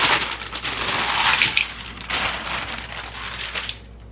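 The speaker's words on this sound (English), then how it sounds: "I'm just gonna go ahead and pick up the parchment and dump it in." Parchment paper crinkles and crunches as Chex Mix puppy chow is tipped from it into a bowl, a close, dense rustle with a few sharp crackles that trails off into quiet near the end.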